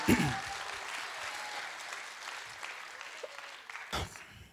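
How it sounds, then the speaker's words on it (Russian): Faint applause from an audience at a corporate talk on partnership, a soft, steady patter that spreads evenly through the room and fades out near the end. "Здесь нужно, наверное, аплодисменты дать."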